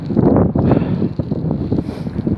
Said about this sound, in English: It got very much more windy,